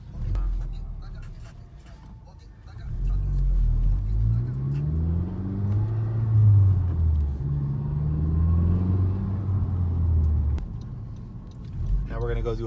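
A Honda Civic Type R fitted with a Mishimoto cold air intake drives along with a deep, steady engine rumble and rising revs heard from inside the cabin, with some knocks and rattles.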